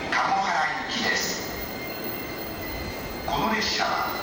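E231 series 1000 commuter train pulling into the platform at Urawa station, a steady loud rumble of wheels and motors filling the whole span, with brief higher squeals and a platform announcement voice over it.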